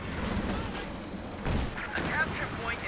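A Pershing tank's main gun fires in a video game: a single heavy boom lands midway through, with someone talking over the battle noise.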